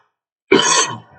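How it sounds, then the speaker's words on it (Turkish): A single short, harsh cough from an adult man, close and loud, breaking a silence and fading within about half a second. "Evet öksürük biraz var arkadaşlar."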